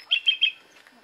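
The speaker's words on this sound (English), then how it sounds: "That's a little reed warbler." A little reed warbler gives three quick bright chirps in a row, then fainter trailing notes, close and clear against a quiet outdoor background.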